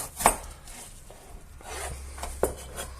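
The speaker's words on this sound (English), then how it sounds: "And I'm also going to chop this up" A knife chopping a small onion on a board, two or three sharp close taps spaced apart amid quiet kitchen rustling.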